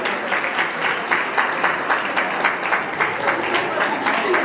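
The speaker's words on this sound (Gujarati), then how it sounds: "જોરદાર એક તાળીઓ છે" Audience applause at a retirement function in Dhrol, with dense, rhythmic clapping that holds steady at a fairly loud level throughout.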